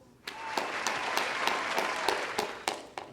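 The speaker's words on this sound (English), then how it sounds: "let's just give him a round of applause" Applause from an audience at a youth church gathering honoring a young man working on a musical, a short burst of crowd clapping with distinct nearby claps on top, rising quickly and tapering off near the end.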